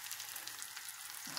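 Steady crackling and sizzling of an egg frying in a hot pan, close up and continuous, with no voices.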